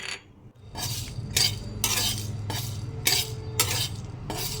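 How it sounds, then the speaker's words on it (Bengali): Cumin, coriander and chilli dry-roast in a wok, with rhythmic metallic scrapes of a spoon against the pan repeating about once a second over a low background hum, close and without speech. "কড়াইয়ের মধ্যে একটা ভাজা মশলা তৈরি করব জিরে ধনে আর লঙ্কা"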